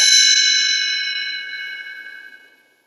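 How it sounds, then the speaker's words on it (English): A single bright chime rings out cleanly and alone, a shimmering metallic ding that slowly decays over about three seconds as a page-turn signal. "You will know it is time to turn the page when you hear the chimes ring like this."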